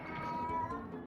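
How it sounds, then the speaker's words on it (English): A house cat meows once in a faint, drawn-out call heard in a room in the background, with a quiet murmur of a voice nearby. "Oh, that's my cat."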